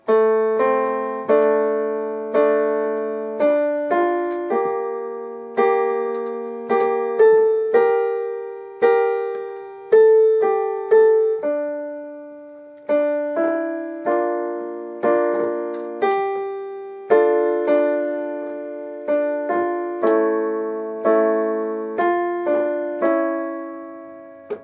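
A piano plays the Pirates of the Caribbean theme very slowly, with distinct struck notes and chords that ring and decay in a steady sequence, with no talking.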